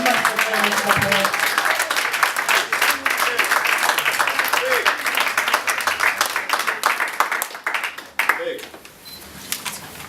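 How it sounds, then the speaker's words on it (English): A large audience at a talk breaks into loud, sustained applause lasting several seconds, with voices mixed in, before it drops off near the end. "massive, massive round of applause."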